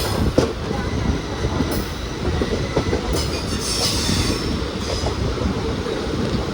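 A train running on the Vanchi Maniyachi–Tiruchendur line, a heavy continuous rumble with rhythmic wheel clatter and occasional squeals, close and loud throughout.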